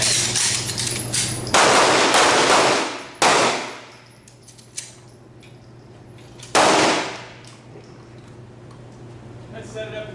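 During a night-shoot handgun training class, sharp loud handgun reports ring out with echoing tails, two or three shots spaced a few seconds apart. Voices and quieter clatter come between them.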